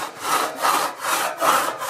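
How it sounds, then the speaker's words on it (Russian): A handsaw cutting wood for a new staircase, steady back-and-forth rasping strokes, close and clear, about four strokes in quick rhythm. "Ты можешь посмотреть, как пилят."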